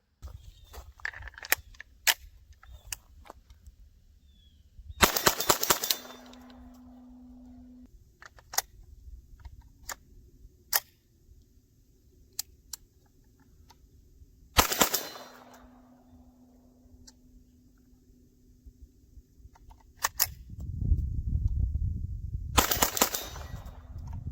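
S&W M&P 15-22P .22 rifle firing irregularly with malfunctions. Sharp shots are scattered with long gaps between them, and a few heavier blasts stand out. No one talks.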